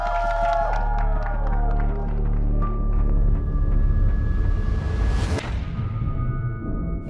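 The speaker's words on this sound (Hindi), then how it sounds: "जोरदार तालियां" Indoor audience clapping and cheering for a drag queen performer, a broad sustained wash of applause layered over loud stage music, with a swooshing sweep near the end.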